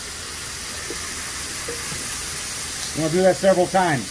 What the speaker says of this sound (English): Hit them with the steam like that.